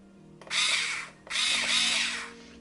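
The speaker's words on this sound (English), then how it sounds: "you press that and you can rotate it and turn it into a kind of mini drill" A Parkside PSSA 4 B2 cordless screwdriver set to drill mode whirs loudly in two bursts, a short run and then a longer one with a slight pitch change, with no talk over it.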